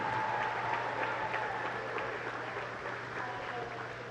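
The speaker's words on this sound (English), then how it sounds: "How about a round of applause for Anders Whitridge and his great game?" A crowd applauds at a men's varsity high school basketball game, a soft, steady wash of clapping heard from a distance that tapers slightly over a few seconds.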